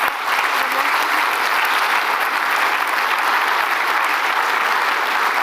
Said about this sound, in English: Can we give Pierre a big clap?